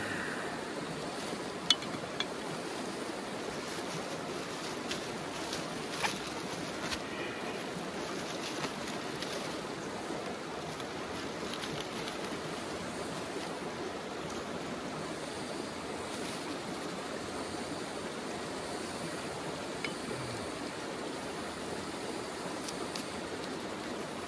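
River water flowing steadily past the bank, a continuous broad rushing wash heard close and alone, with a few faint clicks on top.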